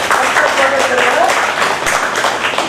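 An audience claps steadily throughout, a dense, continuous patter of many hands at a spiritual talk honoring a teacher, with a faint voice tone running underneath.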